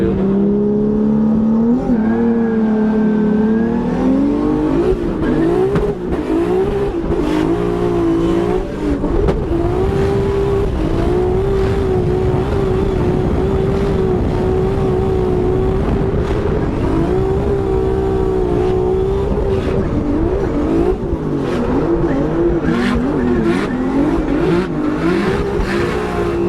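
A BMW E36 drift car tears through a run at Formula Drift Seattle, its engine revving hard and rising and falling in pitch with tire squeal, loud and close throughout.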